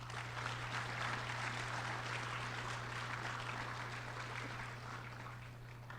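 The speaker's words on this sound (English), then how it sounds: "So give you guys yourself a round of applause." High school students in an auditorium applaud for themselves at an opioid discussion, a steady wash of clapping filling the room throughout and easing slightly near the end, with a constant low hum underneath.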